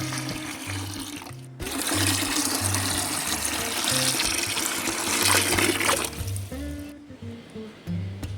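Water gushes steadily into a bucket filled halfway to dilute an organic plant solution, a loud continuous pour running for about five seconds over a low hum before stopping abruptly.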